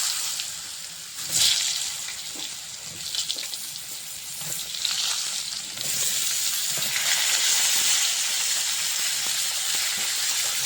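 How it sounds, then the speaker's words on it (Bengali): Potato and teasel gourd frying together in mustard oil left from frying fish, with a continuous close hiss and sizzle that swells and stays louder over the second half. "মাছ ভাজার তেলে আমি কিছুটা সর্ষের তেল দিয়ে দিয়েছি আলুটার কাঁকড়টা একসঙ্গে ভেজে নেবো"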